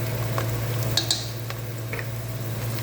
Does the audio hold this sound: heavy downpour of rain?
no